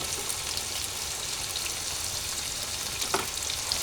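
Garlic paste and ginger paste fry in a pan for liver bhuna, a dense, even sizzle close by with an occasional light stir, and no voices.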